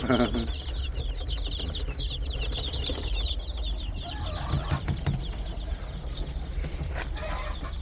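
Native Korean chickens and two-week-old chicks on a farm cluck and peep continuously in a dense flock, with occasional louder clucks over constant chick chirping.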